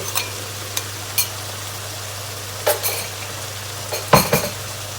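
Spatula clinks and scrapes against a pan as pork is stir-fried with chilies for Thai basil pork cooked without vegetable oil, a few sharp metallic knocks over a steady low hum.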